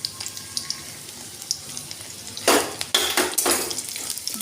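Grated ginger and carrot fry in a pan over low gas. A faint steady sizzle gives way to several loud bursts of stirring and scraping near the end.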